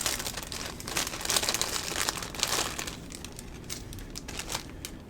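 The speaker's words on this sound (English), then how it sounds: "Sorry if you hate the crinkling." Plastic packaging around a plush bear toy crinkles and rustles continuously up close, loud at first and gradually settling into softer, scattered crackles.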